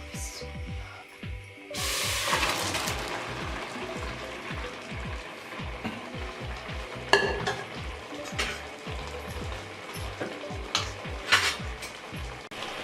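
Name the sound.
boiled mutton tripe being turned into a karahi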